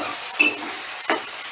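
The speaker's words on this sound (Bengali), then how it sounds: "টমেটোটাও একটু নাড়াচাড়া করে নেব" A spatula stirs chopped tomatoes cooking in a pan for moong dal with paneer, giving two short, close scraping strokes over a faint, steady sizzle.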